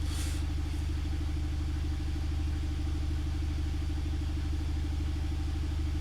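A car engine idles steadily with a continuous low rumble while a Bluetti Charger 1 draws power from it to charge a portable power station, with no talk and no change in pace.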